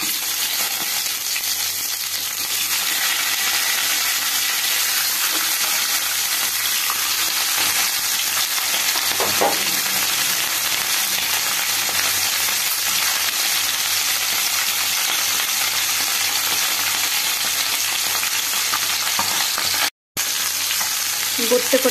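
Fish heads fry in hot mustard oil in a kadai, giving a steady, loud, unbroken sizzle throughout with a brief clatter partway through.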